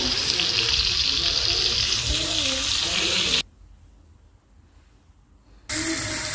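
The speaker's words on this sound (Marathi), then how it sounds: "अशा प्रकारे एक एक पापलेट पूर्ण आपण फ्राय करून घेणार आहोत।" Pomfret fish frying in a pan makes a loud, hissing sizzle up close, cutting out abruptly for a couple of seconds before resuming just as strongly.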